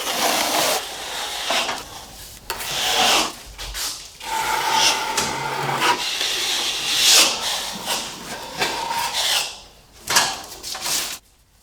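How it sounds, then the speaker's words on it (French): Ready-mixed plaster filler being spread over a wall joint about 20 cm on each side, a steady close scraping and rubbing of a trowel in repeated strokes with short pauses. "enduis bien le joint des deux côtés sur 20 cm"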